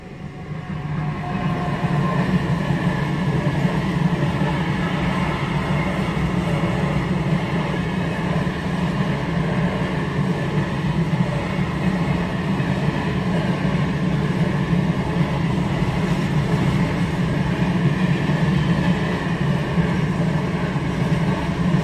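A train rumbles past a level crossing for a long stretch in a steady, loud roll of wheels on rails, with no voices.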